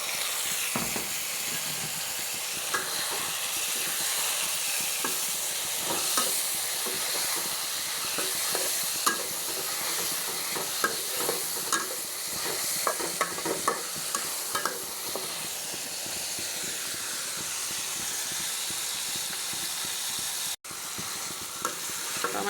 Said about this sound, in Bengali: টমেটোটা যখন একটু কষানো হয়ে যাবে